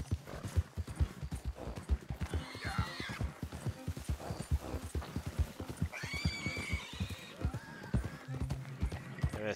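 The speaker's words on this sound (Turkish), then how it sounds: "Şu ahıra bir gidelim. Şu ata bir bakım yapalım." A horse in Red Dead Redemption 2 clops steadily on its hooves while being led to a stable, with two whinnying neighs breaking in; someone talks over the rhythmic hoofbeats.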